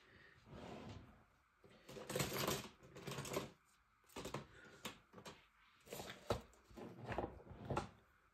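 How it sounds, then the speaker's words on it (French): Scissors cut a drawing out of paper for a collage in a sketchbook, making a series of close, quiet snips and crisp paper rustles in irregular bursts. "je vais venir découper une partie de celui-ci"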